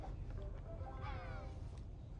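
A cat meows in the Pou mobile video game, with a few short, high electronic meows repeating over a steady low background hum.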